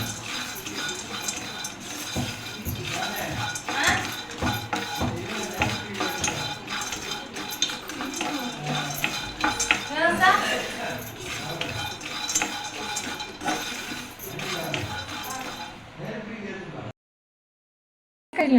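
Peanuts and roasted gram being dry-roasted over a low flame in a pan, with steady scraping and clinking of a spoon against the metal for most of the stretch, then a brief silence near the end.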